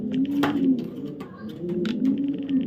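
A racing pigeon of a foreign bloodline coos close up, a soft, low, droning rumble that swells and fades in a steady rhythm, with faint background noise.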